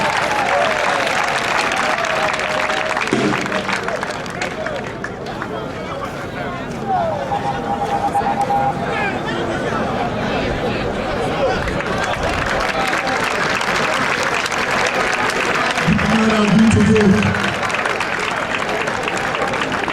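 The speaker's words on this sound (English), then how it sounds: "A round of applause." Sustained crowd applause at an outdoor public ceremony honouring Abia State Command officers, a dense, even wash of clapping that runs the full length, with brief amplified voices breaking through now and then.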